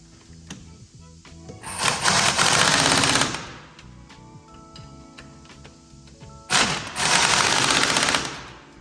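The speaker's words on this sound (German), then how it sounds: "Für die, die den Schlagschrauber nicht so richtig mögen, ich habe ihn hier auf Stufe 1" An impact wrench, set to its lowest level, tightens bolts on a Volvo V70 strut mount, two loud rattling bursts of about one and a half and two seconds each, separated by quieter clatter, close and without speech.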